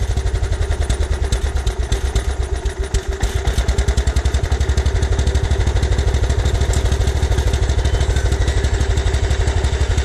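A small gas engine on a tractor, just started after a starter replacement, chugs and idles loud and close with a fast, even, rhythmic putter throughout.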